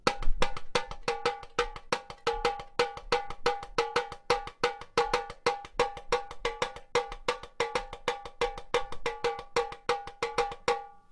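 A tambourine plays a steady repeating rhythm pattern of accented strikes alternating with softer ghost notes, a dense, even stream of bright, short metallic hits alone and close.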